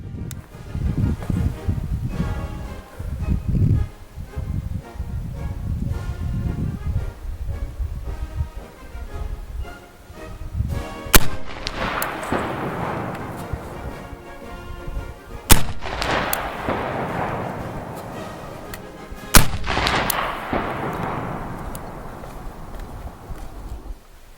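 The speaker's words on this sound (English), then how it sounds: "it does produce a healthy recoil. Not unmanageable by any means, but you definitely know that you are shooting a military arm" A P58 Enfield naval rifle firing black powder Pritchett ball, with three loud, sharp outdoor reports spaced several seconds apart, each followed by a long fading echo, over wind and rustling noise.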